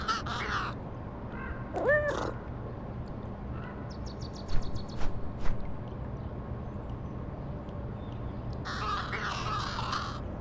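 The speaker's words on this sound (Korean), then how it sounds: "눈앞에 까마귀 한 마리가 기다렸다는 듯이 서 있었죠" A crow caws in short bursts outdoors, a couple of harsh calls near the start and a louder, longer run of cawing toward the end over steady background hum.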